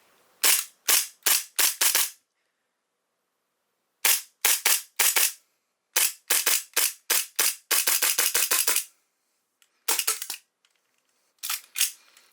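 Hi-Capa airsoft pistol in stock form firing on green gas, loud sharp cracking shots in rapid bursts of several rounds, one long fast string near the end, with pauses between volleys and no talking.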